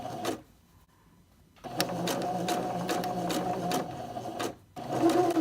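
A sewing machine stay stitches fabric along a guide line, running in a steady fast rhythmic whir with a brief pause, close and fairly quiet, no talk.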